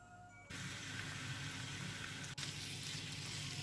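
Minced meat starts sizzling loudly in a hot pan, a steady crackling hiss that continues throughout after a quieter opening moment.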